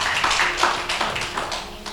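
A church congregation claps hands during a Sunday service, a short burst of scattered, uneven claps close by with no one speaking over them.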